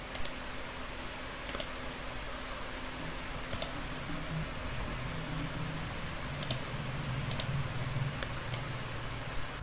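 Numbers typed on a computer keyboard during animation work, a scatter of light, quick key clicks at irregular intervals over a steady fan-like hum.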